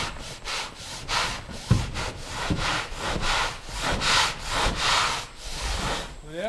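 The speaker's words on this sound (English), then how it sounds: "we'll get all the dust scrubbed off here" Dusty curtain panels in a barn on a dairy and beef farm are scrubbed with a brush, a rhythmic series of rough rasping strokes, close and fairly loud, repeating steadily throughout with no talk.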